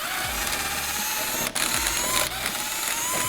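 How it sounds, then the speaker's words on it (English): Drill boring holes in a C8 Corvette bumper during a Maxton Design aero kit install in a shop, a steady close whine with repeated low motor pulses as each hole is cut, running alone without talk. "Let's get to drilling."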